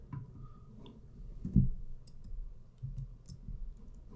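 Mouse clicks while setting up a PID parameter in SCADA software: a few sharp, close clicks spaced irregularly over a low, quiet background hum.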